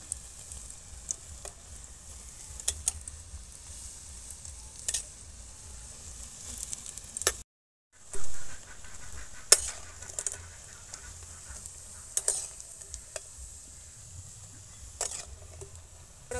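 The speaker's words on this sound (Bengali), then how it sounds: "সুন্দর লাল লাল করে পকোড়াগুলো আবার একইভাবে ভেজে নেব" Pakoras frying in hot oil give a soft, steady sizzle with scattered small pops and crackles, faint and close, with a brief dropout midway.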